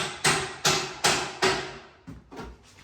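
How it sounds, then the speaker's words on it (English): Hammer blows on a yard prep job outdoors: four sharp, evenly spaced strikes ring out loud and close, followed by a couple of softer, quicker knocks. "Keep hammering that up, Paul"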